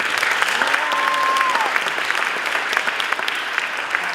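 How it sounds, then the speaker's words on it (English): An audience at an 8th grade school graduation claps steadily, a dense wash of applause, while a voice briefly rises above it early on before the clapping continues alone. "So please, young people, would you clap it up for them?"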